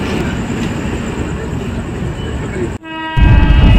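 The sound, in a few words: Garib Rath Express train departing Bandel station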